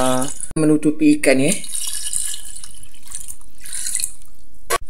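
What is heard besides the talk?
plain water poured over fish in pressure cooker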